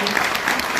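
An audience at a conference on the film Inu-Oh at the Angoulême comics festival applauds director Yuasa, a brief, dense burst of clapping that fills the whole moment without a break.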